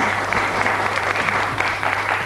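Studio audience applause on the French TV word-and-number game show Des Chiffres et des Lettres, a dense, steady wash of clapping filling the whole stretch at close, even loudness.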